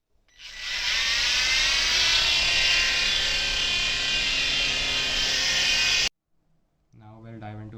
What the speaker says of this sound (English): I'll briefly show you this helicopter in flight